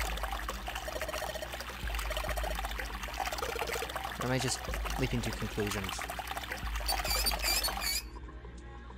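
Water pouring and trickling into a sink in the video game Zero Escape 999, a steady stream under music with a voice talking over it, cutting off abruptly near the end.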